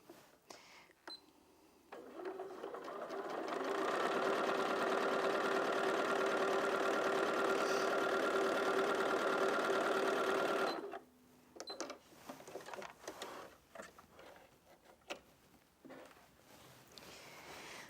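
A Bernina 475 QE sewing machine with a patchwork foot stitches fabric in one steady whirring run of about nine seconds, nearby and even, then stops, with quiet handling noises before and after.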